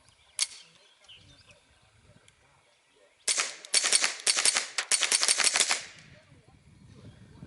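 Rapid string of about a dozen sharp .22LR shots from a Browning Buckmark carbon carbine firing Eley subsonic rounds from a 10-round magazine, loud and close, preceded by one isolated report and followed by quiet.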